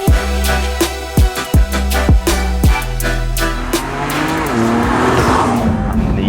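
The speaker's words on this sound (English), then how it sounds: "We're going to get the car off the dyno, go test it on the road, collect some data" A tuned BMW M4 Competition on the road after dyno work, its engine loud and close, revving hard through several sharp gear changes before settling into a steadier drone.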